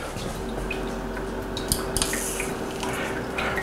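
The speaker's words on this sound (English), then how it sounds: "You can hear it boiling off" Faint crackling and sizzling with small drips and ticks over a steady hum, as leftover water boils off hot molten lead.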